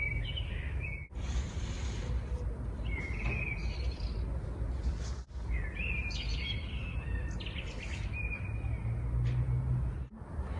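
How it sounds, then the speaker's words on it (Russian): A nightingale sings outdoors in several bright whistled phrases, moderately near, over a steady low background rumble, with short breaks between the phrases. "Це соловей. Якісь птахи так співають."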